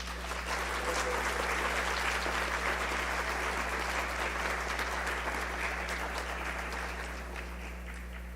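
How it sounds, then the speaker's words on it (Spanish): An audience at a Dominican family gathering gives a long, sustained round of applause for a friar's lecture on Dominican preaching, an even wash of clapping over a low electrical hum, tapering slightly at the end. "A él, un fuerte aplauso."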